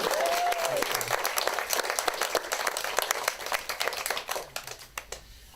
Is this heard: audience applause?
yes